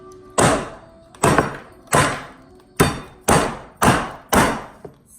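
Seven sharp, loud thuds ring out at a fairly even pace as sprinkles in a Ziploc bag are banged against a hard surface, each hit followed by a short decay.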